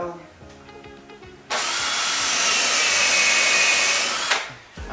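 A power drill drives screws into a log Adirondack chair, one loud sustained whir running about three seconds after a brief lead-in with a voice, then stopping abruptly.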